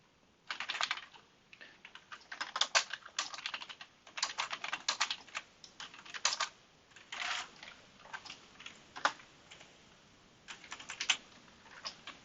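Typing C++ code on a computer keyboard, rapid bursts of close, crisp key clicks separated by short pauses, fairly quiet and with no voice over them.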